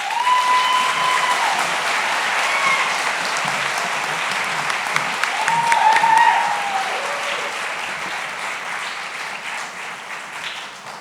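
Steady, loud applause from a gala audience honoring Golden Apple teachers, continuous clapping throughout with a few whoops rising above it midway.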